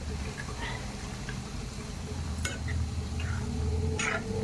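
A ladle stirs pumpkin curry with jaggery in a cooking pot, giving soft scraping and a couple of sharp metallic clinks over a steady low background hum.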